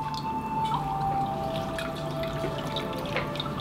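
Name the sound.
rinsing facial towelettes in water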